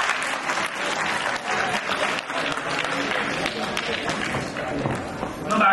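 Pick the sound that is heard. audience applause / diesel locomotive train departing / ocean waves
audience applause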